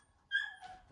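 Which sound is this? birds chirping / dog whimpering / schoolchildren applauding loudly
dog whimpering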